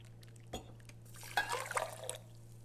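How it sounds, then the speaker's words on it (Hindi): Boiling water poured into mango jello powder in a pot, a short splash followed by a bright, close gurgling pour with dripping that trails off after about a second. "2 कप इसमें डाल देना है बॉइलिंग वाटर"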